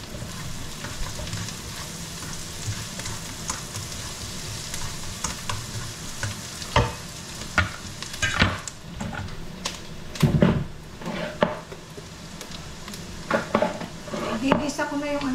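Chicken wings, gizzard and liver sautéing in a pan with tomato sauce and pineapple chunks, a steady loud sizzle with scraping stirs and occasional clanks of utensil against pan.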